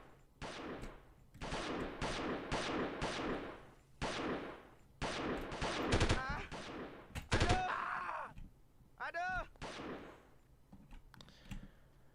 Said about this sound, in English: Sounds like a couple of pistol guys.